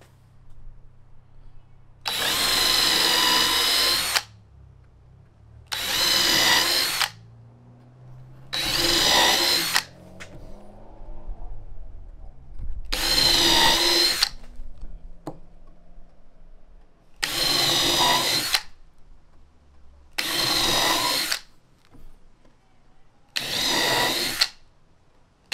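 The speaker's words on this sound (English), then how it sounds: "So we'll just do all the pilot holes right now." A power drill boring pilot holes into the wood of a DIY workbench, seven separate loud whining bursts of a few seconds each, separated by quiet pauses and faint handling clatter.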